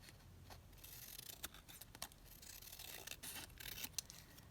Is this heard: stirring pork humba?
no